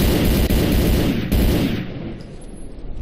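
Sustained rapid gunfire from a weapon test in the S.T.A.L.K.E.R. Clear Sky video game, loud and dense for about two seconds before thinning into quieter, scattered shots and echo; no talking.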